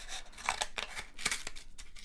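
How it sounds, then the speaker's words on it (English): Scissors snip through a cardboard toilet paper roll while a kids' Halloween bat is being crafted, giving several crisp, close cuts in an irregular rhythm with no talking. "we can just take our scissors and cut about"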